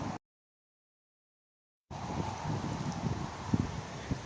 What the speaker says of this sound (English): it's actually pretty windy out here today, so I don't know how well this audio is gonna come across